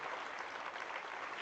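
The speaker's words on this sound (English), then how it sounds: "So please give another round of applause for this esteemed panel." Steady audience applause for a conference panel at the Elevate Africa convening, dense and continuous clapping filling the whole moment with no voices.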